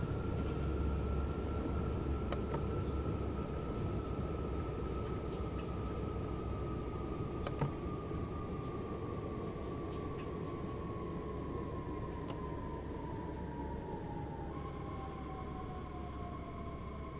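Frankfurt S-Bahn train braking in Train Sim World 5, a steady rumbling run with a faint whine that slowly drops in pitch over nearly twenty seconds, quiet with occasional light clicks.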